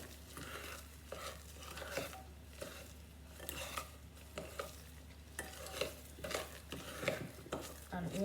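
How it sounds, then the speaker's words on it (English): A spoon stirs egg whites into a thick chocolate cake mixture in a bowl, soft rhythmic scraping and faint wet squelches repeating close by, with no talking. "So I'm just kind of stirring the first spoonful through to make the mixture a little bit softer."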